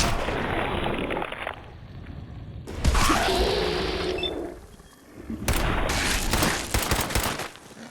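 Heavy gunfire and explosive blasts from the Fallout 4 video game, with loud bursts of shots and booming impacts in several dense waves separated by brief lulls, no talking.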